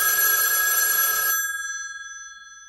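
A telephone bell rings loudly and steadily, then stops, its bright metallic tone hanging and decaying for over a second afterward in a quiet room.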